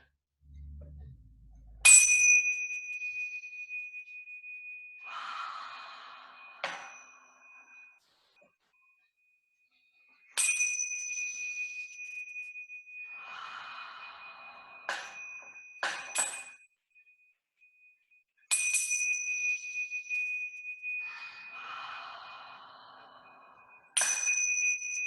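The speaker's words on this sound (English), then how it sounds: "Digby's going to ring the bell" A small bell rung by Digby during a yoga session at home gives several bright, ringing strikes, each left to decay before the next, with quiet rustling between them.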